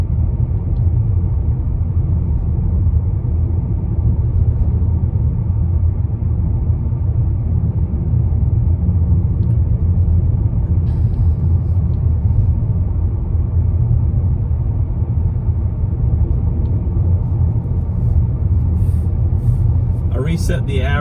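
2019 Mazda3 on a test drive, heard from inside the cabin as a steady low road rumble and engine drone, with someone talking over it.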